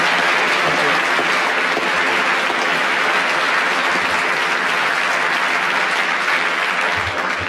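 Studio audience of a radio panel show clapping and cheering, a thick, continuous wave of applause sustained at full strength for the entire stretch.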